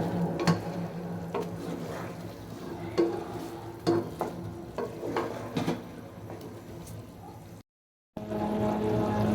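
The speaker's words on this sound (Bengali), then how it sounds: "এখন দিয়ে দিব জলপাইগুলো, দিয়ে দিলাম জলপাই" Cut olives drop into oil and jaggery in a pan for pickle and are stirred, giving scraping spoon strokes and soft sizzling, close and uneven, with a brief silent break.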